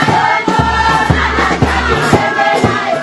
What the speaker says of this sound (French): Chants, danses, cris des gens en son honneur